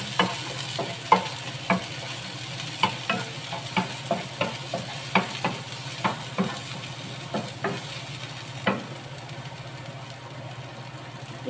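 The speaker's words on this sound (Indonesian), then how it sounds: "Kita tumis sampai agak kuning ya, tapi jangan terlalu gosong." Sliced shallots sautéing in oil for a spicy shrimp stir-fry: a low, steady sizzle under a run of sharp spatula taps and scrapes, which thin out toward the end.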